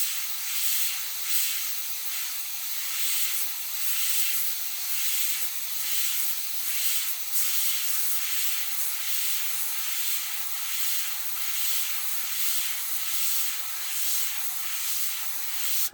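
A spray gun lays paint onto the body of an Oldsmobile Cutlass in short, controlled bursts, making a steady airy hiss that pulses slightly as the gun moves, heard close up and fairly quiet.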